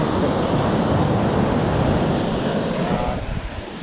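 Ocean waves on Old Orchard Beach at night: a broad, steady rush of surf mixed with wind buffeting the microphone, loud and continuous, easing slightly at the end.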